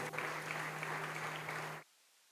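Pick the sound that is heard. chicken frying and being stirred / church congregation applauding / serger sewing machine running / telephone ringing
church congregation applauding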